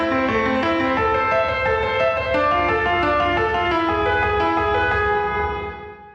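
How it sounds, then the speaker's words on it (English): Grand piano section from a drum and bass arrangement in Logic Pro 11, played alone: sustained, overlapping chords ring out steadily and fade near the end, with no voices. "we've got this little sort of grand piano section"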